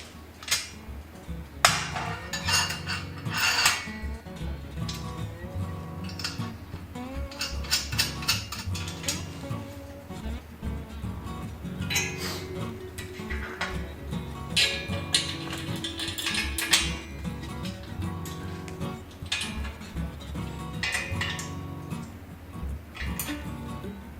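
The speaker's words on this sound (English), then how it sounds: "I bought this Wizard dummy tire fixture a couple years ago, and with a little 80/20, it becomes a handy yoke holder" Metal parts clink, tap and ratchet as a Wizard dummy tire fixture is set up with 80/20 aluminium extrusion as a yoke holder for a mountain bike frame, a busy run of close mechanical clicks and knocks with no talking.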